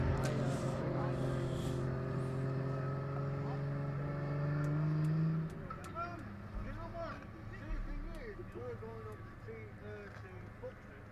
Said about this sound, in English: So both of those guys are now going to go and warm their tyres up, Mike.